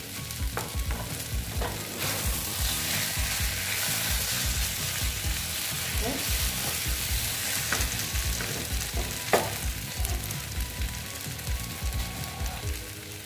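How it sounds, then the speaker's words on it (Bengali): Pointed gourd sautéing in a wok with peanuts, mustard, poppy seed and sugar, an ongoing sizzle under rhythmic stirring scrapes and knocks of a spatula against the pan, close and steady, no talking. "ভালো মতো কষিয়ে নিচ্ছি"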